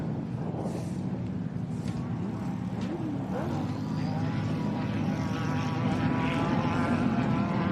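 Razorback V8-powered racing buggy in the ultimate class at a desert off-road race, a sustained droning engine roar at steady distance, rising slightly toward the end, with a commentator talking over it.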